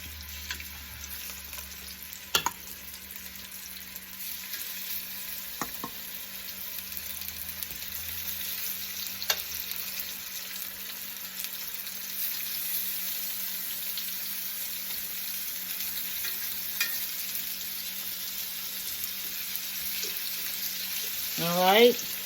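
Chicken fries in a pan over medium heat with a steady, even sizzle lasting throughout, close and moderate in level, with occasional utensil taps and a brief swell of louder crackling near the end.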